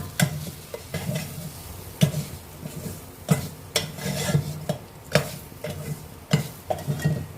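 A spoon stirs fish curry with salt in a pan, making repeated scraping strokes in an uneven rhythm over a low background sizzle. The sound is close and moderately loud, and nobody speaks.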